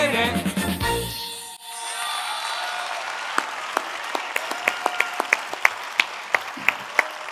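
Audience applause at a choir concert, a dense roar of many hands clapping that thins out into scattered, individual claps toward the end.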